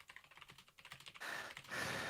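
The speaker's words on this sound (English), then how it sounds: "I'm just typing up my counter arguments to all of these" Typing on a computer keyboard, rapid uneven clicks of keys close by, then a louder stretch of broadband noise rising over the tapping, no voices.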